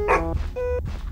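A dog barks in a horror video game, two short tonal barks or yips in quick succession, close and clear with no talk over them.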